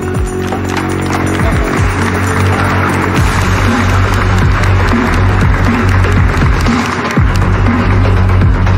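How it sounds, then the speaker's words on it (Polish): An audience at a fight-event press conference for FAME 19 breaks into loud, sustained applause mixed with crowd noise and scattered thumps, lasting the whole stretch. "Wielkie brawa"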